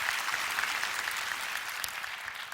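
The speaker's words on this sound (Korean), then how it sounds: "저희 교회, 여기서 한번 박수 치고 갈까요?" A church congregation applauds in a steady, even wash of clapping, moderately distant and unbroken for a couple of seconds.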